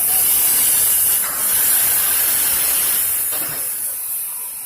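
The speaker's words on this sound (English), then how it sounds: "Train going through Dollywood is real old-fashioned steam train." Loud, continuous hiss of escaping steam from an old-fashioned steam locomotive at Dollywood, a harsh spraying rush that swells and eases slightly.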